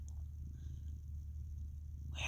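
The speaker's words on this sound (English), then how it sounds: "My kitty's coming up to me" A domestic cat purrs close by in a quiet room, a soft continuous low rumble with steady pulsing throughout, faint overall, ending with a brief rustle.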